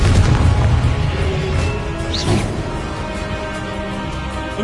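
A Confringo explosion spell in the video game Hogwarts Legacy, a single loud boom at the start that rumbles and slowly fades over several seconds.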